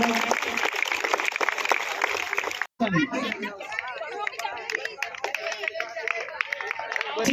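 An audience at a university event applauds to welcome a cabinet minister, with steady clapping mixed with crowd chatter and a voice over a loudspeaker, then murmuring voices continue after a brief break.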